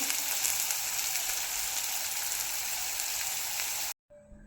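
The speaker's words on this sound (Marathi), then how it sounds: "आणि कांदा छान सॉफ्ट करेपर्यंत आपल्याला तीन ते चार मिनिटासाठी परतवून घ्यायचं आहे" Chopped onion sizzles steadily in a hot pan over a high gas flame, a dense even crackle of frying that runs loud and continuous before cutting off abruptly near the end.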